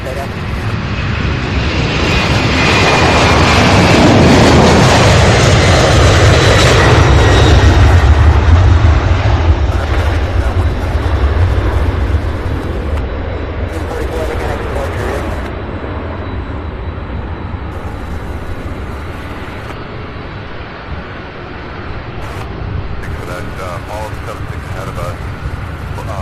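A heavy jet airliner takes off from runway 17 left, its engine roar swelling loud and broad over the first several seconds, then easing into a long receding rumble that lingers in the distance.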